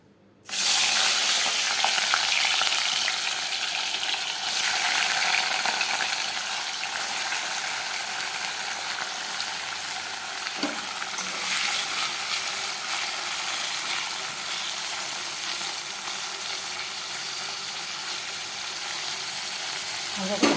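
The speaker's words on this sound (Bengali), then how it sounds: "পনিরগুলোকে আমি হালকা করে একটু ভেজে নেব।" Paneer pieces fry lightly in hot oil in a home kitchen, giving a steady, loud sizzle that runs nearly unbroken throughout, with a few faint clinks of utensils and occasional speech-like sounds in the background.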